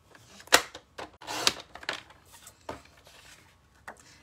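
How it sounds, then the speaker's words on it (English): Card paper being trimmed a quarter inch on a paper cutter, with a few sharp snapping slices and clicks spaced over a few seconds, close and crisp. "Let me just cut a 1/4 inch off this end."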